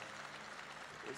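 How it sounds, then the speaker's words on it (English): Audience applause, a dense wash of clapping from a crowd, brief and steady. "Big round of applause for Mithali"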